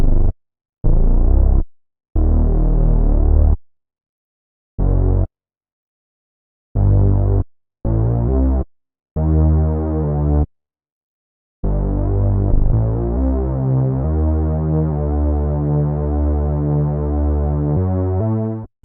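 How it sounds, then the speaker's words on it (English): A Moog-style analog synth bass preset with distortion plays a root-note line of short separated notes with silent gaps, then a sustained run of deep, buzzy low tones, loud and alone. "It's essentially a Moog bass."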